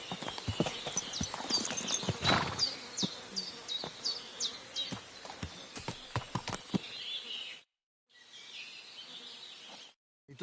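Rapid horse hoof clops from Kingdom Come: Deliverance 2 patter in a quick rhythm alongside a buzzing insect drone, with brief drops to silence near the end.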